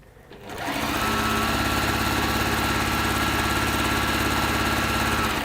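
Domestic sewing machine stitching fabric pieces one after another without cutting thread, starting up after a quiet moment and then running in a fast, steady, close mechanical whir for several seconds.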